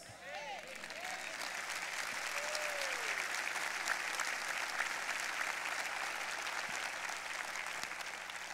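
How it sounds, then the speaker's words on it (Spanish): A church congregation applauds steadily and warmly for over eight seconds, a dense wash of clapping at moderate distance, with a brief voice near the start. "Y este aplauso para nuestro Señor Jesucristo vale la pena"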